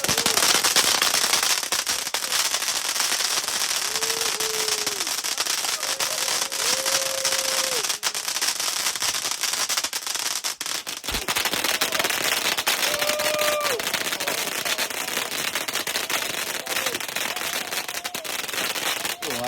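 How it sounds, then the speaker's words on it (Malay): Firecrackers bursting at night during a celebration at a fishing kelong off Pulau Indah, Selangor, with a steady stream of crackling pops throughout and a few brief whistling tones rising above the noise. "kejap lagi kita nak bakar mercun"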